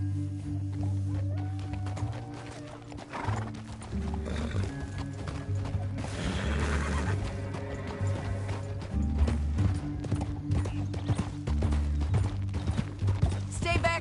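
Hooves clop steadily from horses being ridden across rough ground, mixed into a dense, continuous bed of background music and ambient noise, with occasional voices.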